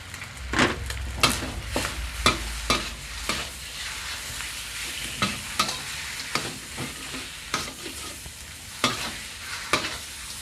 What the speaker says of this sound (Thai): ผัดไปแห้งเลยพี่น้อง